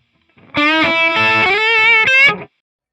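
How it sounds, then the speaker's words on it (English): Distorted electric guitar plays a blues lick, a run of sustained notes that closes with an upward string bend, loud and close with effects-laden tone, no voices. "I'm playing the 8, and then when I'm ready to leave, I give it a little bend upward"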